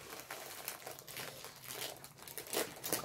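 DAC packaging being unwrapped, with continuous crinkling and crumpling close up, busy and uneven throughout.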